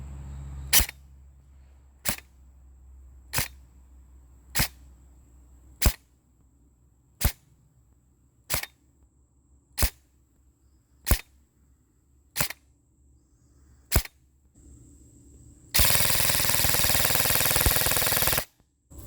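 A Krytac Kriss Vector airsoft gun fires single .2g BBs through a chronograph, about a dozen sharp evenly spaced cracks roughly a second apart, followed by a short loud burst of rapid full-auto fire near the end.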